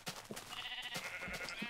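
Sheep bleating in a farming video game while being sheared for wool, several short bleats in a row over a steady background hum.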